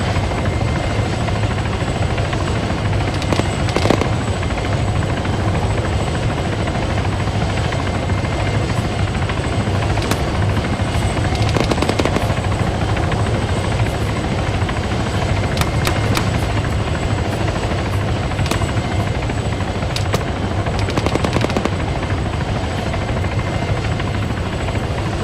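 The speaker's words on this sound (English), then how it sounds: "Follow the helo. It's looking for another place to land." Helicopter rotor drones steadily and loud throughout a winter war video game battle, with scattered sharp gunshot cracks breaking through at intervals.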